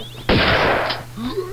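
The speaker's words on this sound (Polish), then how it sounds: "No, dwa strzały." A loud, sharp shotgun blast in the video game Tomb Raider II bursts out with a noisy decaying roar, followed by a brief second burst and a voice.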